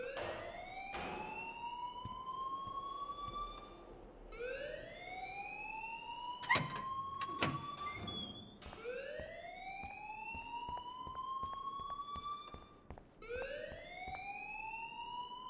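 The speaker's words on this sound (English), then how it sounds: "please turn off that alarm since that's your job" Alarm in the video game Life is Strange: a repeating electronic rising whoop, each sweep climbing for about three seconds, loud and steady, with a few sharp clanks in the middle.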